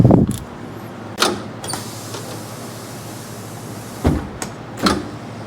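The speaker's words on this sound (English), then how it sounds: "And the air doors are working right now." Pneumatic air-powered gullwing doors on a Bricklin SV1 sports car, fitted without glass, cycling open and shut: four sharp hissing bursts of air, each with a short mechanical clunk, spaced apart over a quiet shop background.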